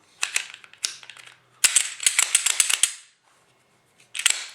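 Metal clicks and snaps of an FN FNS 9C compact pistol's slide being fitted back onto its frame rails, several sharp close clicks in quick clusters separated by short silences.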